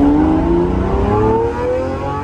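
A Lamborghini engine revs loudly up close, a rising, throaty roar that climbs steadily in pitch for about a second and a half before easing off.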